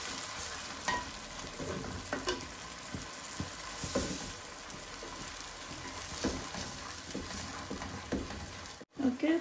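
Spices fry in hot oil with garlic tempering for a Sylheti lentil dish, giving a steady close sizzle broken by scraping stirs of a spoon in the pan.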